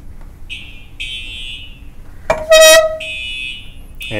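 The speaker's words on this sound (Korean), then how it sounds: "파이어 스모크 알람 같은 경우도 건물 안에서 발생할 수 있는 굉장히 위급 상황에" Shrill electronic fire smoke alarm beeps sound in short bursts, interrupted midway by a sudden loud blaring horn-like blast, with no talking.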